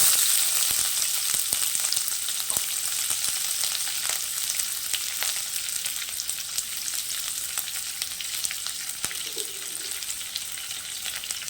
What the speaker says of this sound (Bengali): তেল গরম হয়ে গেছে এবার তেজপাতা আর হচ্ছে শুকনো লঙ্কা দিয়ে দিচ্ছি অ্যাড করে দিচ্ছি পেঁয়াজ কুচি